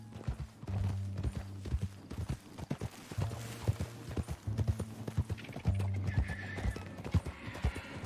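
Horses in the Red Dead Redemption 2 video game trot with steady clip-clopping hooves, and a whinny sounds partway through over a low rumbling background. Quiet voices are faintly audible beneath them.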